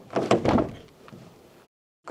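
A door closes near the microphone with a few close, loud thumps and rattles, then a softer settling sound that fades into silence.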